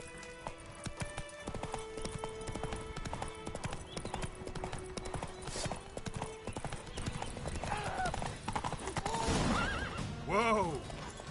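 A horse in The Witcher 3 video game gallops with rapid, steady hoofbeats, then gives several loud neighs near the end, while voices talk over it.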